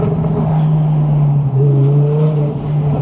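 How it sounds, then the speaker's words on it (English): Twin-turbo V10 engine of a tuned Audi R8 Spyder revving hard from close by, a loud sustained droning roar with a slight pitch rise and dip and no voices over it. "V10 twin turbos are on another level"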